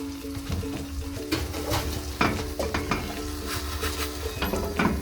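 A vegetable Spanish omelette sizzles in a pan after being flipped and set back in, with a steady frying hiss broken by scattered clinks and scrapes of a utensil against the pan.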